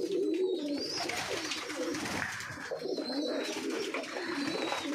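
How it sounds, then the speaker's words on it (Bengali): Pigeons in a ceiling loft on a winter pigeon farm coo and chirp softly, the chicks' calls mixing with steady low cooing from nearby birds in a continuous, moderately close murmur. "এই যে বাচ্চাদের কিচিরমিচির আওয়াজ"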